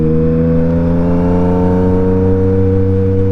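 A Yamaha MT-09 motorcycle engine hums loud and close with a steady, rich drone, its pitch creeping slightly upward as the rider rolls back on after dropping a gear.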